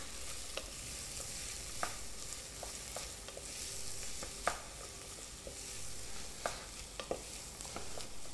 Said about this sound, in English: we're going to pop our shallots in first and just quickly sweat them off for a second in the pan with that butter